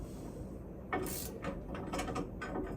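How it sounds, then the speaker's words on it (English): A ratchet wrench tightening bolts on a bus axle gives several sharp, bursty clicking runs in quick succession, close and fairly loud against a low background rumble. "So there's a specific order to tightening all these bolts."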